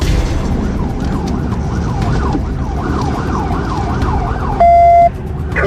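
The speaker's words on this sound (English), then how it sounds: "Kill your siren" A police siren wails in a steady repeating up-and-down cycle during a motorcycle chase, loud and close over constant engine and road rumble, then switches briefly to a single sustained high tone near the end.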